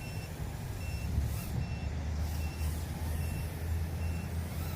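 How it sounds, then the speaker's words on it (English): A TinyHawk drone's buzzer sounds as short repeated tonal beeps over a steady broadband whir and low rumble, moderately loud and continuous. "And the buzzer is going off a little"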